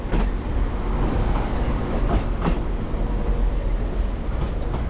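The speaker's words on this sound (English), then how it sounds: "Transport for Wales class 197 approaching" A Transport for Wales class 197 train approaches a platform at Manchester Piccadilly, arriving from Llandudno Junction with a steady rumble and rhythmic wheel clatter over the rail joints, fairly close, with no voices.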